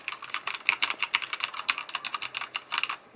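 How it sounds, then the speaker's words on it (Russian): Typing on a HyperX mechanical keyboard that has been dropped a couple of times: quick, crisp key clacks in an uneven burst of about twenty strokes, close and clear with no talking. "Вот такой звук на HyperX"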